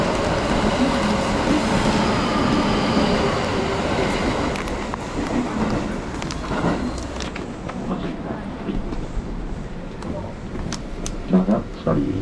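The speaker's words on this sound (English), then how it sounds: "Train approaching." A train rumbles into a station in Osaka with clattering wheels and sharp metallic squeals, growing more broken and clanky as it slows.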